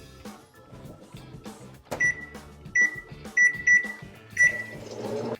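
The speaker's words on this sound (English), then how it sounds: "put your dry sponge in the microwave for 2 minutes" A microwave oven heating a dry sponge hums steadily, punctuated by several sharp electronic beeps in a short irregular series.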